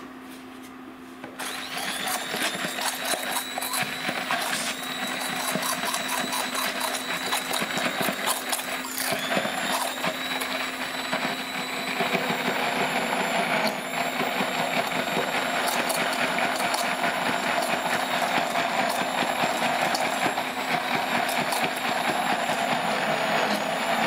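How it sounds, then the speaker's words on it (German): A blender purees an avocado mixture for grilled salmon, a loud steady motor whine and churn running continuously for the whole stretch after a brief quieter start. "das Ganze pürieren wir jetzt"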